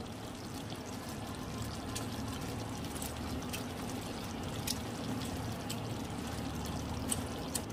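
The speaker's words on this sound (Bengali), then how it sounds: "এরপরে লেবুর রসটা আমি এর মধ্যে দিয়ে দেব।" Lemon juice is poured into lemon chicken in a faint, steady trickle that runs for several seconds, with soft kitchen background noise.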